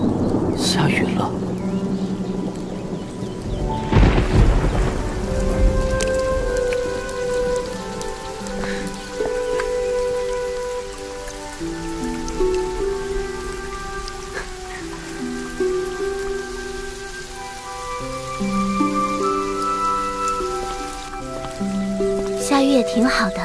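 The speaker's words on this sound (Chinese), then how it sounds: "下雨了。" Steady rain patters on surfaces, with one heavier rumbling burst of thunder early on, under soft music and voices.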